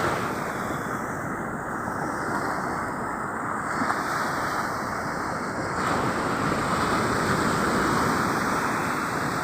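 Waves at a river mouth wash and break continuously under gusty wind buffeting the microphone, a dense, steady roar of surf with no speech.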